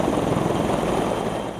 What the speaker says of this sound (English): a Canadian Super Huey helicopter hovers just above the vessel